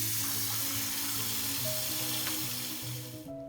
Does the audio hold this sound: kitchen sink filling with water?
yes